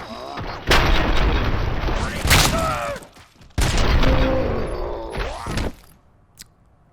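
Gunfire in the RoboCop: Rogue City video game, coming in two heavy loud stretches of rapid shots and booming impacts with voices mixed in, then dropping to near silence with one last faint shot.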